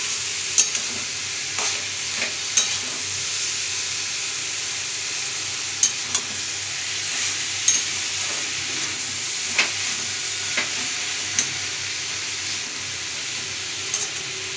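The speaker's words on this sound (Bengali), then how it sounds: "এটা নেড়ে নেবো ভালো করে।" Bottle gourd with spices sizzles steadily in a pan while a spoon stirs it, giving a constant close frying hiss punctuated by regular scraping clicks of the utensil.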